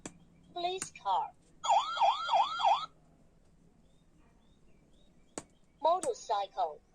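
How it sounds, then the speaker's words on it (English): A police car siren sounds in a short, wavering up-and-down wail lasting about a second, set among other brief vehicle sound effects and a voice speaking. "police car"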